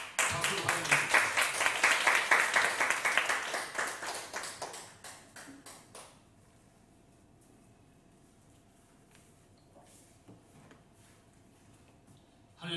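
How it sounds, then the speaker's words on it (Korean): Applause at a Korean political party gathering welcomes a pastor to the stage, clapping fairly loud for several seconds, then tapering off into a quiet room. "박수로 환영합니다"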